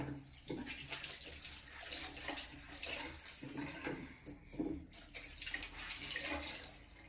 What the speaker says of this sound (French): donc là je nettoie, je me rince une dernière fois